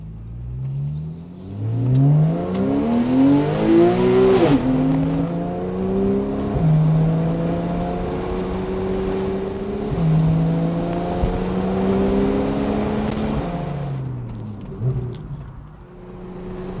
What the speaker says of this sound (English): I hope you enjoyed those flybys